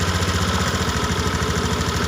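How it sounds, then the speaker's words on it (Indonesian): A Honda motorcycle engine idles close by after starting, a steady, loud, even putter with a regular pulsing beat and no voices. "Sekarang motor kita hidupkan tanpa melakukan reset terlebih dahulu."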